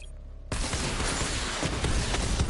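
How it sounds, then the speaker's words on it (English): A level 2 missile barrage fires in a video game, bursting in abruptly after a quiet start as a loud, continuous roaring rush of launches and blasts that holds to the end. "Missile barrage level 2 ready."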